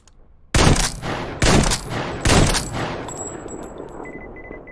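Gunfire from a weapon in the video game Metro Exodus: three loud, close bursts in quick succession, each with a sharp attack and a ringing tail, followed by a fading echo and a faint repeating electronic tone.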